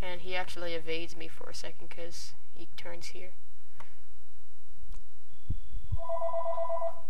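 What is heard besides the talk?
phone ringing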